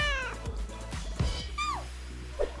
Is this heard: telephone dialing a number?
no